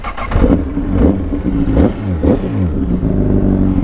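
A motorcycle engine fires up and revs in quick bursts, loud and close, with rattly mechanical clatter between the pulls.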